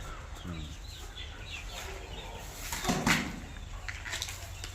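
Kadaknath chickens cluck and chatter softly on a farm over a steady low hum, with a slightly louder burst of fowl calls near the middle.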